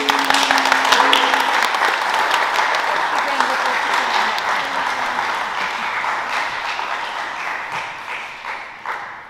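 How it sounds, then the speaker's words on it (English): A church congregation at a Sunday service breaks into loud, sustained applause that gradually fades over several seconds, with a voice speaking faintly over the clapping. "Let's give them a round of applause."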